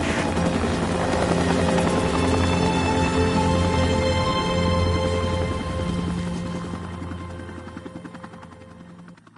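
A video game helicopter comes in to land, its rotor thumping loud and steady before the whir gradually fades and thins toward the end.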